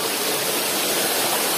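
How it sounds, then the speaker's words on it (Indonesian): Ramuan waterfall at Way Bernung roars in a steady, dense wash of falling water, loud and close from above the drop, with no voices over it. "kita berada di atas air terjun Ramuan"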